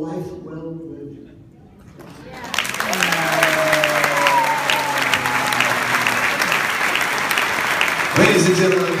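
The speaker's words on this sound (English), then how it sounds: "a big round of applause for Harold and Murray, brothers" After a brief spoken line, a 90th birthday party crowd breaks into full, sustained applause that holds strong for several seconds while voices call out over it.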